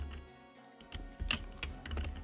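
A computer keyboard gets a few quiet, irregular keystrokes in a hesitant burst of typing, soft and close, with no talking.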